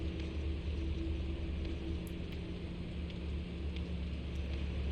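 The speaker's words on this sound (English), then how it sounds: "It's raining again." Steady rain in the video game Fatal Frame: Maiden of Black Water, an even, unbroken hiss that holds at one level throughout with no voices over it.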